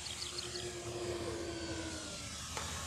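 An E-flite Twin Timber 1.6 m RC model plane flies over a grass field, its steady electric motor drone continuous and moderately distant, with a faint tonal whine falling slightly in pitch as it passes.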